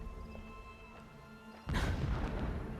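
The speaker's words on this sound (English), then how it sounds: "The blasting should cover any noise you make." A sudden heavy blast from a Horizon Zero Dawn video game erupts partway through, following a quieter stretch of low machine hum and tones, then sustains a loud rumbling roar to the end.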